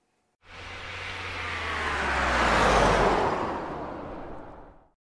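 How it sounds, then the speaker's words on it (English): A car drives past, its engine rising as it approaches and fading away over about five seconds, with no other sounds. "Car."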